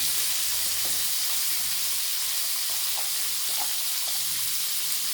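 Mixed vegetables with a little turmeric sizzle in hot oil in a pan, a steady close frying hiss with faint stirring clicks throughout.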